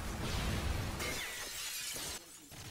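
Glass shatters loudly in the Modern Warfare 3 video game as a throwing knife goes through a pane, a dense crash followed by a few scattered tinkling bursts.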